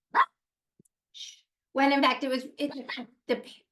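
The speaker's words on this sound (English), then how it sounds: "that's my puppy barking" A puppy barks several times in short, high, yappy bursts, close by and loud, with brief pauses between barks.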